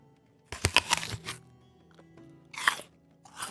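Close, loud crunchy bites into a juicy apple: a sharp crunch followed by a few chewing crackles, a pause, then another crisp bite and a short final crunch, with no talk over it.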